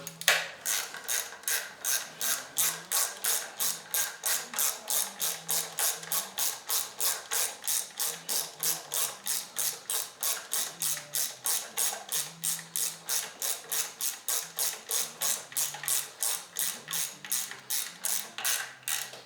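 A ratchet wrench tightens a spark plug into the plastic and aluminum head of a 2004 Chevrolet Cavalier LS, giving a long run of rapid, evenly spaced clicks up close, with no talking.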